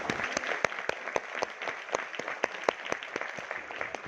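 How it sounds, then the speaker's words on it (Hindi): Audience applause at a business training session, offered for the company founders, with fairly sparse, distinct claps in an irregular rhythm at moderate loudness. "कंपनी के फाउंडर्स के लिए जोरदार तालियां हो जाए"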